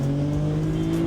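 A modified Honda Accord's V6 engine roars at full throttle, a loud steady exhaust drone with a strong low hum, close and continuous.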